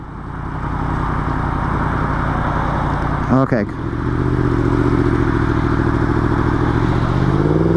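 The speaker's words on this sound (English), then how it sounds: "it literally sounds like a stock exhaust" A Yamaha FZ-10 motorcycle exhaust idles with a loud, steady rumble, briefly blips higher in the middle, then settles back to a throbbing idle; a short spoken word.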